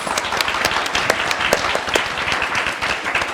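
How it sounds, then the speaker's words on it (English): An audience applauds speakers steadily after a conference Q&A, with dense, even clapping that stays loud throughout and no voices. "Let's give another round of applause for our speakers."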